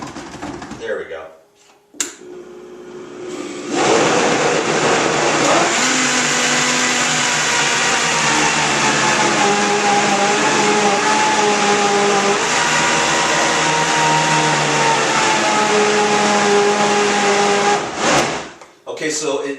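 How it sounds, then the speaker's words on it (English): A high-powered blender blending coconut almond yogurt roars steadily for about fifteen seconds, loud and close, whining and churning throughout before cutting off abruptly. "it really helps to have a high-powered blender"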